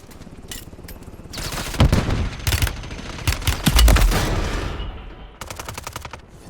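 Gunfire in Warzone crackles in rapid automatic bursts and scattered single shots, building in density midway before thinning to sharp intermittent cracks, loud and close.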